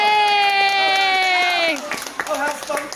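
A live crowd at a Mama G story time cheers and claps together, a burst of whoops and applause rising right after a sustained sung note and continuing loudly to the end.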